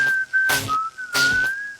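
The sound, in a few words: whistling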